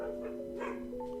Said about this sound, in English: That was the dog. She's outside and was right above my window.